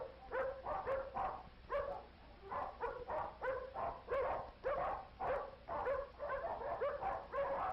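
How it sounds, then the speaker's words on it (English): Many dogs bark at a dog pound, a continuous chorus of overlapping barks and yips in uneven bursts, fairly close and crowded, with no talking over them. "It sounds as though there are many dogs nearby."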